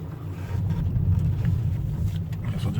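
Inside a 2014 Jeep Compass with a 2.4 liter engine, prone to a reduced engine power fault, a steady low road and engine rumble carries through a test drive, with light wind noise over it.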